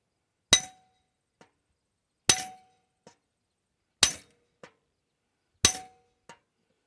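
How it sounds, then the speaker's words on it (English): Four hard metallic hammer blows strike a metal piece on an IH 120 mower, each ringing briefly and followed by a lighter tap, spaced about every second and a half, close and loud with no voices. "we're going to take our big whacker and keep whacking it"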